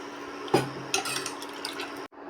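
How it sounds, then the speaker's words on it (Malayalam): Water is poured into rasam in a cooking pot, a close, steady liquid rush with a clink of metal at the start and a few small knocks, then an abrupt stop. "ശകലം കൂടി വെള്ളം ഒഴിച്ച് കൊടുക്കാം."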